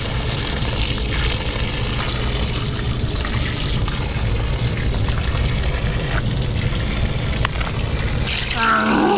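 Water running from an outdoor tap behind a church, a steady close gush and trickle with a low rumble underneath, continuous throughout and slightly brighter splashing at the very end.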